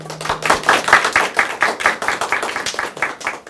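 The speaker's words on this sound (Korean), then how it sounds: "박수가 참 인색하시네요." Lecture audience applause, a small group clapping in uneven, fairly close bursts that rise and fall for a few seconds, with no talking over it.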